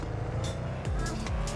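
Car engine while driving in the mobile game Car For Sale Simulator 2024: a continuous low engine drone with rising and falling pitch sweeps as the car accelerates, fairly close and steady, with brief higher bursts layered over it.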